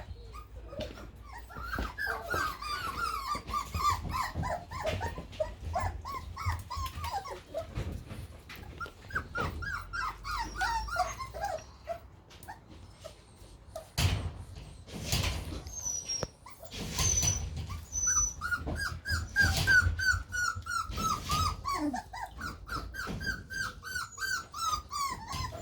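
Three- to four-week-old Springer Spaniel puppies whimper and whine in repeated rising cries, with a few yips and barks mixed in, close and fairly quiet.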